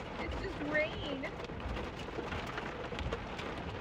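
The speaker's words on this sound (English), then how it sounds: "It's just rain." Steady rain pours during a North Carolina storm, a dense continuous wash of drops with a faint bird-like call near the start.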